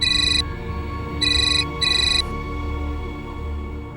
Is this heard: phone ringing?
yes